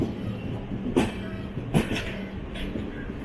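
Netravati Special passenger train rolling into Calicut (Kozhikode) station, a steady low rumble of carriages with two sharp clanks of wheels over rail joints standing out, heard from on board.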